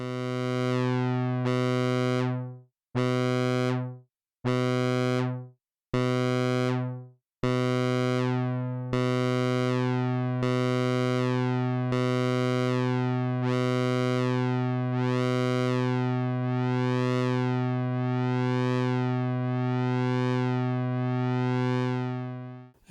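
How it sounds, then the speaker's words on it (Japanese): Moog Mother-32 analog synthesizer with its sustain switch on: a bright buzzy tone first played as short repeated notes, then held as one long sustained note whose timbre sweeps up and down slowly, alone without voices. "サステインスイッチをオンにすることでより長く伸びる音というのを作ること"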